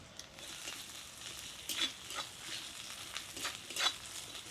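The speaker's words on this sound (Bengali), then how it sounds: "আদাটাকে ভালো করে ভেজে নিতে হবে" Ginger paste frying in a pan with chopped onion and green chili, a steady close sizzle with sharper crackling bursts from stirring, alone without talk.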